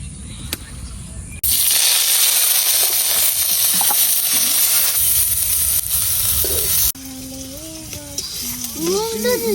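Chilies wrapped in gourd leaves fry in a pan, a loud dense sizzle that bursts in after a quiet start and holds steady, then drops off, with a voice speaking over the last seconds.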